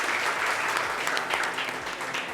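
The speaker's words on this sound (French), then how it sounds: "on va l'applaudir s'il vous plaît" A studio audience at a live television show applauds steadily for about two seconds, a dense, even wash of clapping with no speech over it.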